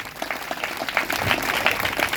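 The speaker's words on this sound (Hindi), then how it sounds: "प्रभु यीशु मसीह के लिए जोरदार ताली बजाएंगे।" A church congregation at a New Year revival meeting in Raipur bursts into loud, dense applause that holds steady throughout, with a faint voice barely present beneath the clapping.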